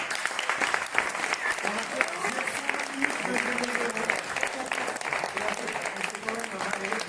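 A live audience applauds itself at the close of a radio broadcast of a Switzerland–England football match, with dense, continuous clapping and a crowd murmur beneath it throughout.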